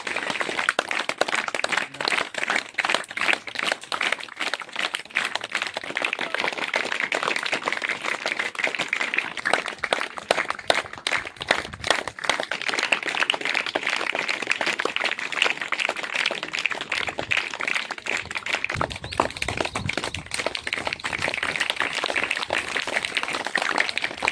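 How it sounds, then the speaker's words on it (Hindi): Loud, sustained audience applause at a government school ceremony honouring a state-level handball player, dense crackling clapping that continues steadily without a break. "जोरदार तालियां के लिए।"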